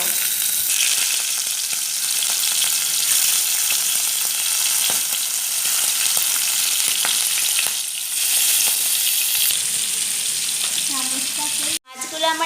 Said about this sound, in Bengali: তেলটা আমার গরম হয়ে গেছে এবার আমি চিংড়ি মাছগুলোকে ভেজে নেব